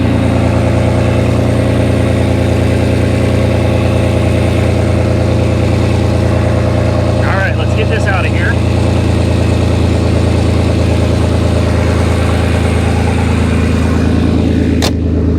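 A 1998 Audi A6 Avant engine idles loudly and steadily at close range, a constant heavy rumble throughout, with someone speaking briefly over it.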